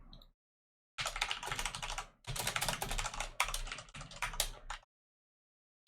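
Computer keyboard typing in bursts with short pauses between runs of keystrokes, close and clear, no talking.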